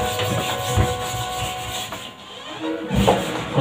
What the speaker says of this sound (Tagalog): Kuskus lang tayo ng kuskus ka mga kawatch. Hanggang sa matanggal.